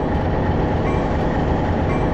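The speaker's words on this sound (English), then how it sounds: "they're met by Missouri Pacific's westbound train number 11, the Colorado Eagle, as it departs for Denver and Los Angeles" A Missouri Pacific passenger train, the westbound Colorado Eagle, pulls out of Kansas City Union Station in the Trainz 2022 simulator, giving a loud, steady rumble of rail noise that fills the scene without talk.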